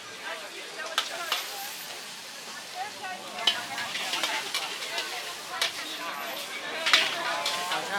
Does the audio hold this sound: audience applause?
no